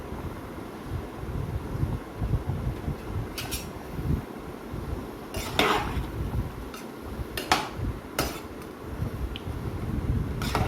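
Mushroom biryani rice being gently mixed after lemon juice is added, a spoon clinking and scraping against the pot in irregular taps over a low steady background hum.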